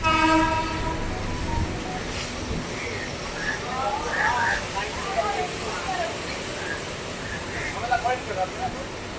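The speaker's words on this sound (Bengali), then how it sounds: "আর ট্রেন আমাদের প্রবেশ করে গেছে শোভাবাজার আইরিটোলাতে গিয়ে" A local train rolls along the rails near Shobhabazar–Ahiritola beside the Ganges with a continuous rumble and rattle, while a voice talks over the noise.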